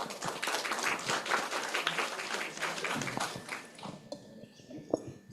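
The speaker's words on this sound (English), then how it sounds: "please give them a warm round of applause" Applause from the audience of a university online ceremony, a dense patter of clapping that runs steadily for several seconds, then thins and fades near the end.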